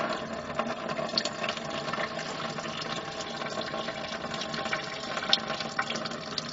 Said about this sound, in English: let's let that drain out and we'll go back up top